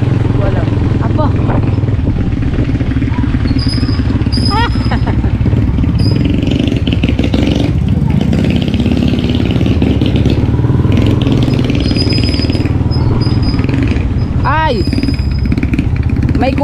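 Motorcycle tricycle engine running close by: a loud, continuous rough engine drone with rattles throughout, while people talk nearby.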